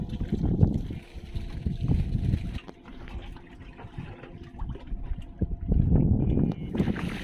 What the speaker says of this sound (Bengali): একবারে নদীর মাঝখানে নৌকা দুলিয়ে দুলিয়ে ঢেউ দিচ্ছে